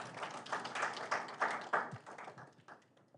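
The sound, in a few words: audience clapping for speaker Nova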